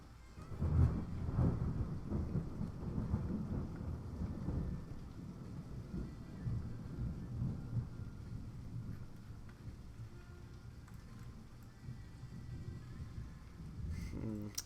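Deep rumbling thunder rolls through a severe thunderstorm in southern Oklahoma during a multi-round severe weather outbreak, loud at first and then fading into a steady low rumble with rain and wind.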